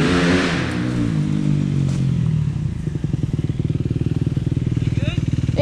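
Honda CRF150R dirt bike engine on a trail after a spin-out, first a rising rev then a steady rapid-firing idle putter close by, with voices talking over it.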